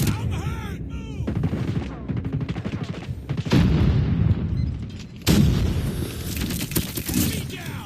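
Grenade blasts and rapid gunfire in the Call of Duty Mobile video game, loud booming bursts and clattering shots across the whole stretch, with shouted voices mixed in.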